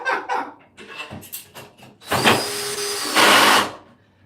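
A power drill drives a screw while a bookshelf is assembled, beginning with a few short clicks and knocks, then a loud steady whine for about a second and a half, ending in a harsher, higher burst as the screw seats.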